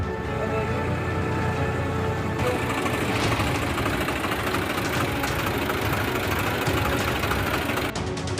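A tractor engine runs steadily during Bihar flooding, a loud continuous mid-pitched chugging drone that fills the whole stretch, with faint background noise.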